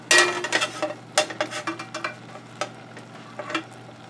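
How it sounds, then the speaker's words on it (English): Onions and peppers fried in a pan: a soft sizzle under a series of light scraping and stirring clicks from a utensil against the pan, irregular and fairly close. "Frying brings out slightly different flavors from boiling."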